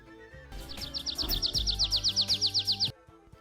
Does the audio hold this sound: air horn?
no